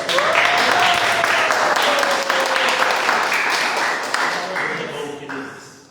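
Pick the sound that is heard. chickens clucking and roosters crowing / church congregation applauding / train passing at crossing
church congregation applauding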